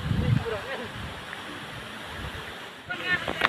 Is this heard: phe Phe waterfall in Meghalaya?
yes